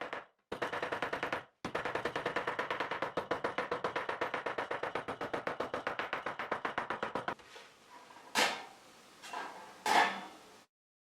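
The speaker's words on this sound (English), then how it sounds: "I give it a few taps with the hammer." Rapid metallic tapping in a long, steady series of quick hammer blows on sheet metal, close and loud, followed by a few heavier isolated knocks.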